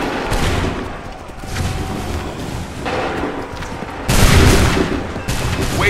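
Musket volleys crackle in a battle scene from the game Assassin's Creed 3, ragged overlapping shots rolling on continuously with a louder fresh volley near the end, dense and close.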